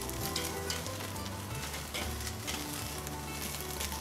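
Reverse-seared lamb chops sizzle on a cold-grate grill in a constant close crackle that holds steady with no voices.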